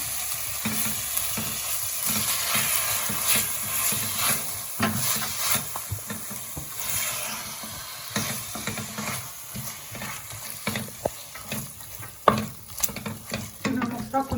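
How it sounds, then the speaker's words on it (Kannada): Tomatoes going into frying onions for Naidu-style mutton biryani, a steady close sizzle of frying with repeated scraping stir strokes and sharp clicks of a spoon against the pan throughout, no voices. "ಈಗ ನಾನು ಟೊಮೊಟೊ ಹಾಕ್ಕೊಳ್ತೀನಿ."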